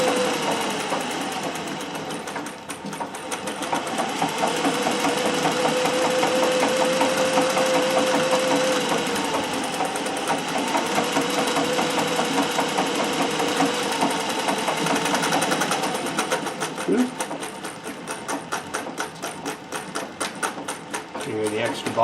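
A treadle-driven Singer 411G sewing machine fitted with a custom balance wheel runs steadily, its needle and bobbin mechanism giving a fast continuous mechanical clatter, close and fairly loud, with the pace easing and shifting toward the end.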